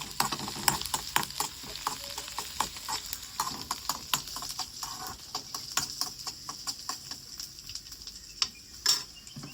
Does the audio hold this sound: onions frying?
yes